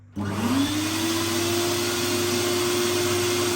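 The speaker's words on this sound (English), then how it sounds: "switch it on, and what it should do is when I seal this head flat to the floor, it should just suck the solution straight from the water tank" A Vax 3 in 1 carpet-washing vacuum cleaner switching on with a sudden start, its motor whine rising in pitch then settling into a steady, loud drone.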